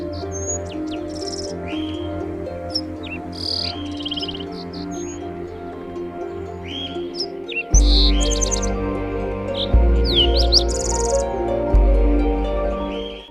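Montezuma oropendolas calling from a colony of hanging nests in Central American rainforest, loud gurgling liquid phrases and sharp whistled notes over a dense chorus of insects and frogs, with deep booming bursts in the later half.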